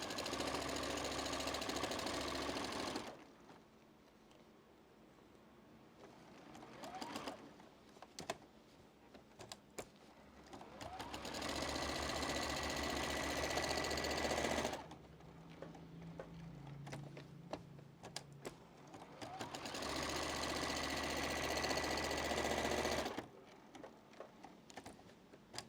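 A sewing machine back stitches a beginner's mosaic quilt block, running in loud bursts of rapid needle chatter separated by quieter pauses with small handling clicks.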